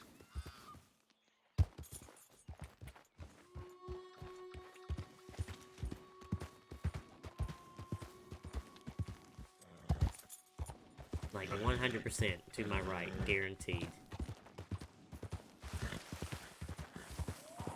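Horse hooves clip-clop in a steady, rapid rhythm while riding in the game Red Dead Redemption 2, close and continuous beneath someone talking, with a brief pause midway before the hoofbeats resume.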